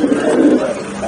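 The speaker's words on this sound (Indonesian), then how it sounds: "kita akan coba kasih ke burung-burung puter yang ada di sini" Spotted doves coo close by while being fed rice bran, a loud, low, soft cooing that runs continuously through the short clip with no talk.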